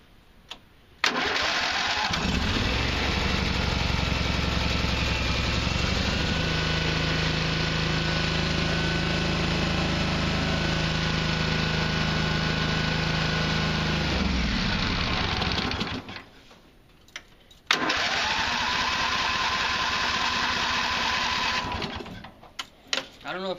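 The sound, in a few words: lawn mower engine running while being winterized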